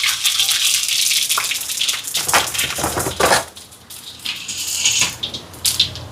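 Loud sizzling and crackling as mustard seeds, fennel and spices hit hot oil for tempering, with bursts of spattering and a few metallic clinks from a pan.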